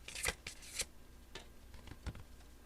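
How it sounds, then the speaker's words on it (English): Tarot cards are shuffled quietly close up, a series of soft papery riffles and taps in irregular bursts, with no talking. "This card is kind kind of sliding down when I was shuffling these."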